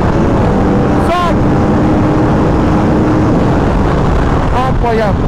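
Yamaha R1M sport motorcycle accelerating hard in fourth gear without the clutch, a loud steady engine roar buffeted by strong wind noise, with a rising whine near the start and end.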